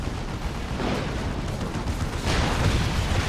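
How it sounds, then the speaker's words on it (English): Leman Russ tank cannon barrage from the Imperial Guard in a Dawn of War 2 Orks battle, heard as a dense, continuous rumble of booming shots and explosions with no distinct gaps, building louder toward the end. "Still taking shots from the Lehman Russ. That's a decent barrage."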